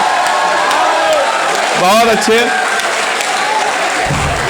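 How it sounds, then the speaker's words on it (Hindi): An audience at a Hindi comic poetry gathering claps loudly and continuously while a voice speaks briefly over the applause. "ताली बजा दीजिए जोरदार एक बार"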